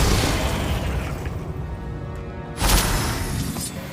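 Bombarda spell explosion in Hogwarts Legacy, a single loud burst with a crackling tail over a rumbling background, close and short.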